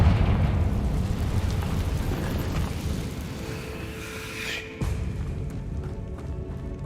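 A Confringo fire spell blast erupts in Hogwarts Legacy, a loud, dense rumbling burst of low booming energy that slowly fades over several seconds, with a sharp secondary crack near the end.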